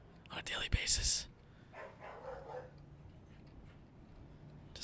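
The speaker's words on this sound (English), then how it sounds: "Just random barking." A dog barks indoors, a short burst of sharp barks near the start followed by fainter, muffled yips, with quiet talking around it.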